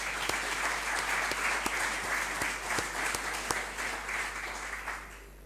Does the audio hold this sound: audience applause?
yes